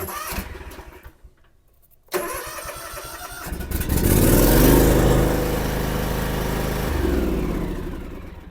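A Cub Cadet Ultima ZT1 zero-turn mower starting at full throttle with the choke on: a short cranking, a brief pause, then the engine catches and settles into a loud, steady close-up run.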